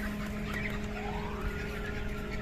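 A Golden Mix chicken about 50 days old clucking softly amid a constant hum of farm background noise, a few short low calls spread over two seconds.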